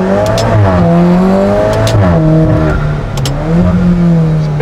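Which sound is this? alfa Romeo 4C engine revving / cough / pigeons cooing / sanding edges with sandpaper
alfa Romeo 4C engine revving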